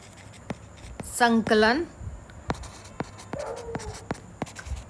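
Chalk or marker taps and scratches on a board during a history lesson, a series of short sharp strokes with a brief spoken word in the middle.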